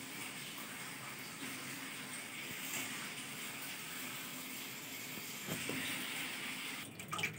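Golda prawns are rinsed under running water from a tap, a soft continuous flowing gush heard up close with a few small splashes and clatters near the end, no talk.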